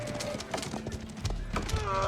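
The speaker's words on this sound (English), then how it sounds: "At great speed, the most honorable Tukhtakin drew up to the city with a host of his Turkic horse archers." Horse archers' mounts in the Age of Empires 4 game, clopping hooves and horse noises set against a busy battle soundscape, with a voice speaking over the top.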